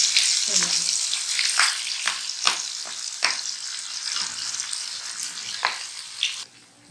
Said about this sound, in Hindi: और हमने इसको घी में इतनी देर भूनना है कि हल्का सा इसमें हल्का सा ब्राउन कलर आ जाए